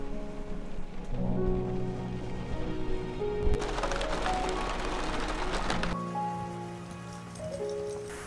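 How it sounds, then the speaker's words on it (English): Heavy rain pours steadily on a Ram Promaster van, a dense hiss with patter and drips close by, swelling louder midway before easing slightly. "you have to excuse a little bit of the rain noise in the background"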